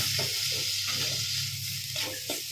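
Chilli powder, coriander powder and tomato fry in hot oil while a spoon stirs the pan, a steady close sizzle broken by soft scraping strokes, with no voices.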